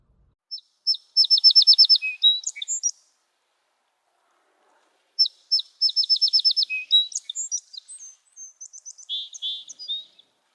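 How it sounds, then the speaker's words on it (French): Song sparrow singing twice, each song opening with a few sharp notes, then a rapid buzzy trill and a jumble of varied chirps, clear and fairly close with a quiet gap between songs. "Les bruants chanteurs sont très communs, donc vous êtes probablement déjà un peu familier avec ce chant."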